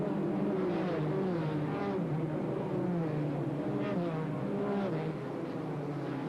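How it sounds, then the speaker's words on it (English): Race cars at a NASCAR track during the 1991 Carquest 300, a steady distant engine drone with rising and falling pitch as cars circle, continuous and fairly faint. "Well, you hear a little activity as we hear it here at the racetrack. That's exactly how they sound, folks."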